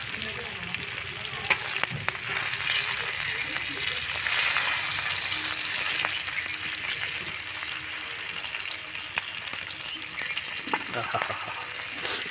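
Fish fries on a flat pan, giving a steady, dense sizzle that stays loud and close throughout, with a few scraping and clattering touches and a brief surge in the middle.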